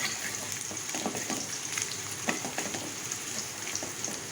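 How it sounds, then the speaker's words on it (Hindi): Onions fry in a pan with a steady, dense sizzle and crackle, close and even throughout, with no talking. "इसके बाद मैं ये प्याज डाल देती हूँ और प्याज को भी फ्राई कर लूँगी"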